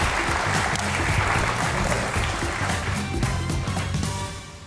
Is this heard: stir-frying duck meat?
no